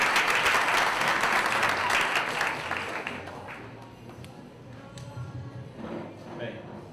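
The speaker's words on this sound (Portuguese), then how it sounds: "Uma salva de palmas." Audience applause in an evening science talk, dense clapping loud at first and fading out over several seconds.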